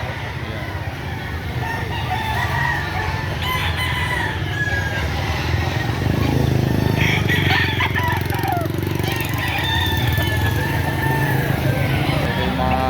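Roosters and hens at a poultry market in Lipa, Batangas crow and cluck repeatedly, several birds overlapping at close and mid distance over a constant busy background hum, with passing vehicle noise.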